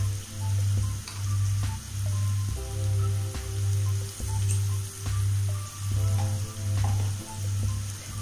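Tomatoes with turmeric sautéing in a pan, a constant sizzle and crackle under a loud, regularly pulsing low hum from a nearby appliance, with occasional light utensil taps.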